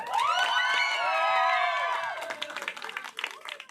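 Audience at a village jago wedding celebration in Patton, Punjab, applauding in a dense burst of clapping with cheering and whoops, loud at first and thinning into scattered claps toward the end.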